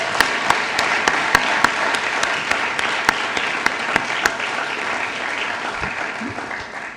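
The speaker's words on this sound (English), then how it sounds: "Can we have another round of applause for all of the winners of tonight's ceremony?" An audience applauds the winners at an awards ceremony. Many people clap together in a sustained wash of sound, with a few sharp, loud claps standing out near the start before the applause gradually eases.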